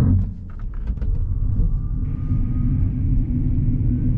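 A Wuling BinGuo electric car accelerating along an empty road, heard from inside as a loud, continuous low rumble of road and wind noise, with a faint whine rising partway through.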